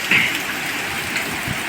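Heavy rain pours during a storm at Perupalem beach, heard from under a small shed as a dense, constant wash of falling water with a brief louder splash near the start.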